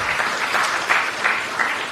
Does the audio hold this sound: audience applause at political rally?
yes